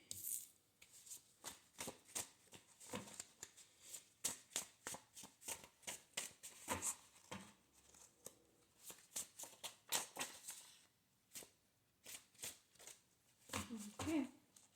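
Tarot cards are shuffled by hand in a long run of quick, crisp riffles and flicks, fairly close and quiet, while a person speaks softly in between.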